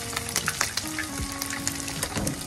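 Pork belly deep frying in hot oil for lechon kawali during a second fry, a continuous crackling sizzle with scattered sharp pops and spatters, close and steady, with no talking.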